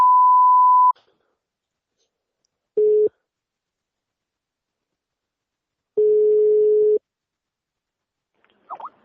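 After a phone call is hung up, a telephone line sounds a tone, then gives two more evenly pitched beeps separated by silence, followed by a brief warbling chirp at the very end.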